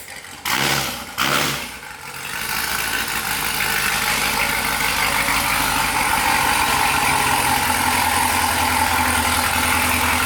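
Corvette C7 Z06 fitted with longtube headers, heard close as two brief revs blip before settling into a loud, steady, deep rumbling idle for the rest of the clip, with no talking.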